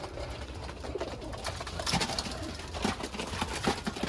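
Pigeons cooing close by, soft repeated throaty coos at an uneven rhythm over a quiet background, with no talk.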